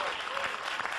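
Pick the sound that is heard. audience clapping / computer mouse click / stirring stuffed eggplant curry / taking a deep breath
audience clapping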